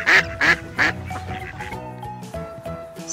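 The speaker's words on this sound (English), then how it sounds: "Yellow Duck." A cartoonish toy duck quacks three times in quick succession, loud and close, followed by a short bright musical jingle with no talking.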